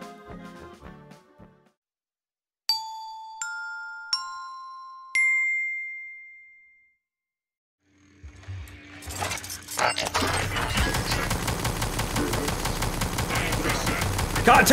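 An automated turret in the game Prey (2017) opens fire after a run of chiming electronic tones, its rapid, dense bursts loud and continuous through the second half.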